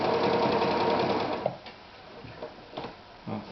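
A Victoria 124 sewing machine runs a wider zigzag stitch with a rapid, even mechanical chatter that stops midway, leaving a few quieter clicks and handling sounds nearby.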